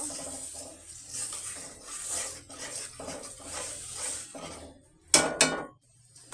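Ginger-garlic paste masala stir-fried in a pan, a close sizzle with soft rhythmic scraping, then two loud spatula clanks against the metal near the end.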